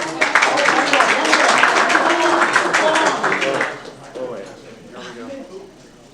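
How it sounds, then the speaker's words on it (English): Dense applause fills a city council meeting chamber for several seconds, then fades away as a voice carries on speaking. "Let's give him a round of applause."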